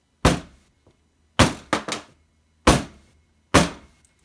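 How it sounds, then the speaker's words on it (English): A cold process soap mold is banged down on a surface five times, sharp close thumps with short decays, two of them in quick succession, in an otherwise quiet room. "I'm just going to kind of jiggle this around, maybe bang it down a little"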